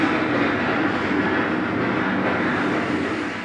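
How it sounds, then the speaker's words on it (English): The Orange Blossom Special train runs past at a depot exhibit, a steady, loud rolling rumble of rail wheels and carriages that holds without a break throughout, with no voices. "The Orange Blossom Special makes a stop at the depot every 7 minutes."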